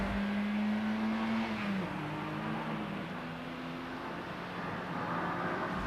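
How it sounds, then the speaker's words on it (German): A 1977 Renault 14 accelerating hard from 0 to 100 km/h, its engine note steady and loud throughout, with a rising tone that drops back at each gear change, heard alone with no talk. "Beschleunigungsmessung von 0 auf 100."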